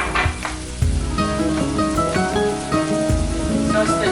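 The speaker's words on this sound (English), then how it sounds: "Toast the dry rice and then just adding it. I'm going to brown it a little bit to release some of the starches." Dry rice toasting in a hot paella pan, a steady close sizzle and crackle with soft scraping stir strokes running throughout, fairly loud and continuous with no voices.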